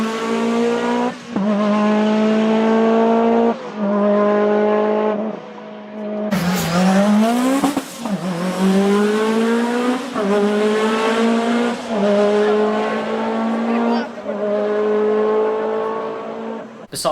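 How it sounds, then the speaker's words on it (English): A Lancia Delta S4 Group B rally car with a supercharged and turbocharged engine revs hard through repeated gear changes, its loud rasping note rising and dropping, with a sharp tire squeal midway. "the Delta S4, which is iconic in its own way"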